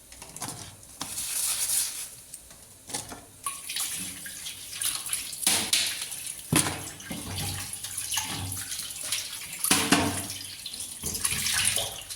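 Tap water runs in bursts while a kitchen utensil is washed with soap during idiyappam preparation, with uneven splashing, surges and occasional clinks close by and no talking.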